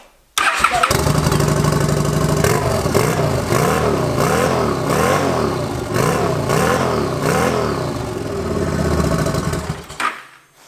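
A cheap eBay turbo-equipped motorbike engine revs hard and continuously with its throttle stuck open, a loud, steady roar with rhythmic surging pulses for about ten seconds before cutting off abruptly; nobody speaks.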